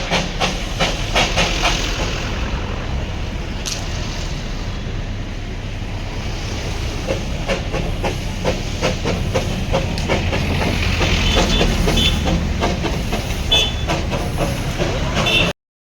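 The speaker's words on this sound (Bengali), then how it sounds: "দেখছি একটা টয় ট্রেন আসছে" Darjeeling toy train passes near the station with a steady, loud rushing hiss and rumble, with faint rhythmic clatter that swells slightly toward the end.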